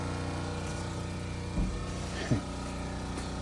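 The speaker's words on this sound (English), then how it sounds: "I apologize for the noise as the generator is running." An RV's generator runs nearby with a steady, droning engine hum that fills the background, broken by a couple of brief knocks.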